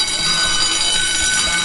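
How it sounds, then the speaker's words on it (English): A heat-sensor alarm set off by body heat gives a steady, high-pitched electronic sizzle, a loud continuous buzz with a faint rumble underneath. "his body heat is picked up by the sensor, and the alarm starts to sizzle"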